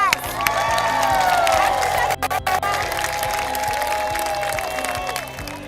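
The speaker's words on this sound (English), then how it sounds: "Can we give her a round of applause?" A crowd gathered for a women's skills-training program applauds and cheers for a trainee, with clapping, shouts and a whistle-like tone rising over the steady noise of the gathering.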